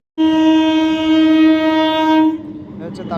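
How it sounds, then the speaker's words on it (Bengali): A Tarakeswar-bound local train arriving at Bally station sounds one long, loud horn blast of about two seconds, then fades to a lower rumble of the approaching train. "ওই যে দেখো ট্রেন আসছে"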